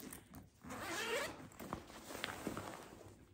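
A backpack zipper on a carry-on bag is pulled open in one long rasping stroke, followed by a few softer handling rustles and light clicks, close and fairly quiet.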